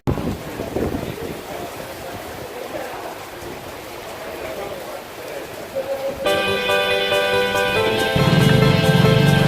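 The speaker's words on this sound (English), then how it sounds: "the rain come down and boy did it rain" Heavy rain pours down steadily over a Bangkok rooftop bar, a dense close wash of noise, joined midway by tonal music-like sounds and louder splashing toward the end.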